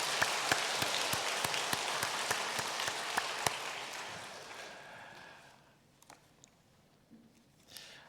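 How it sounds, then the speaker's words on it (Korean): Congregation applauding in a church during a Sunday service, a dense burst of clapping with sharp individual claps standing out, fading away over several seconds into near silence with a few stray sounds. "우리 격려의 박수를 한번 보내드리면 좋겠습니다"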